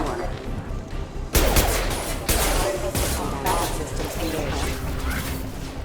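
Shotgun fire in the Mass Effect 2 video game, a loud blast partway through followed by further heavy booms and crashes amid combat noise, with voices talking over it.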